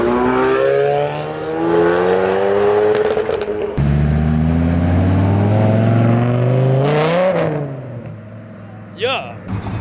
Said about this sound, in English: V12 AMG, man